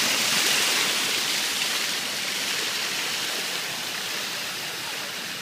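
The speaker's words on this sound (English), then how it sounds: "And beautiful waterfalls." Waterfalls at a Cabo San Lucas resort pool beside an edgeless pool and jacuzzi make a steady, loud, broadband rush of falling water that holds nearly constant throughout, with no voices.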